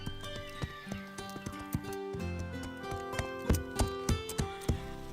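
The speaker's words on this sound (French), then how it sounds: "Zoé monte son nouveau cheval et elle ose le faire devant la pauvre Pepper." Animated cartoon horse hooves clip-clop in a steady, even rhythm over a sustained musical backdrop, with a whinny rising through the mix.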